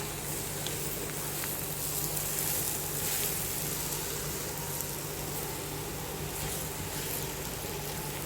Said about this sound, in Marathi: आता याला आपण छान हलवून घेऊ एकदा.